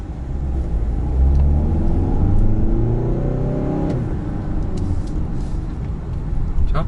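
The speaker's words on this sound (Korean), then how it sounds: "이 가속시의 실내로 들어오는 이 디젤 엔진 특유의 진동과 소음" A 4th-generation Kia Carnival diesel engine accelerating, heard from inside the cabin: a steady low droning rumble rising in pitch over several seconds, with faint voices under it.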